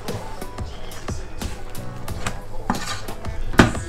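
Ingredients for an endive gratin being stirred together in a pan, with repeated clinks and scrapes of a utensil against the pan that grow busier and end in a sharper knock.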